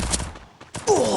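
Gunfire in a shooting video game: a short rattling burst at the start, a brief lull, then another burst of shots at the end, all within about a second.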